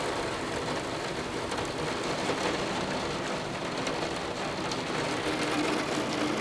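Heavy rain during a summer thunderstorm pours steadily and overwhelms the gutters, a dense, even hiss of falling water with no clear thunder rising above it.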